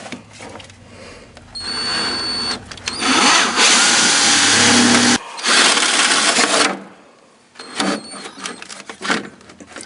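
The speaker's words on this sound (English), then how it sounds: "we decided on a 3/8 inch drill bit. We've got that chucked into our drill." Power drill with a 3/8 inch bit boring through a part for a 1963-67 C2 Corvette powered headlight assembly, heard in several loud bursts of whirring and grinding separated by brief pauses, close up.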